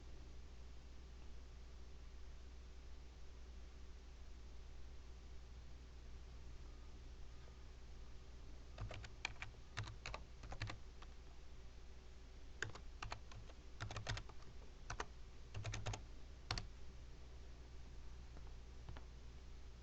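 Keys on a computer keyboard are tapped to type a username into a sign-on dialog, in two short irregular bursts of quiet clicks over a steady low hum, after a long stretch of near silence.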